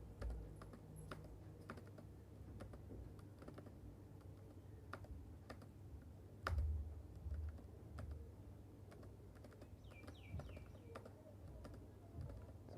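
Rapid, irregular keystrokes on a computer keyboard while HTML code is typed, with crisp close clicks continuing steadily throughout and no talk.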